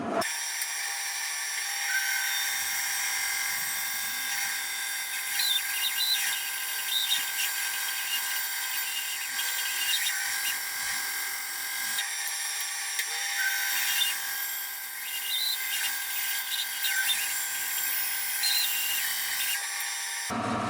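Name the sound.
power saw cutting a tapered wooden table leg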